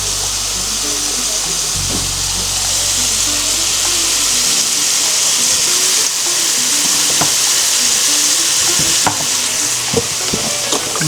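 Southern-style pork chops browning in a pan, a loud continuous sizzle and hiss with occasional faint pops and clinks, steady throughout with no talking.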